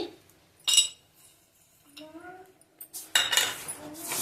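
A spoon clinks and scrapes against a metal pan or bowl as roasted dry fruits go into rava laddu mixture, in a few sharp separate knocks with quiet gaps, then a denser burst of clattering stirring.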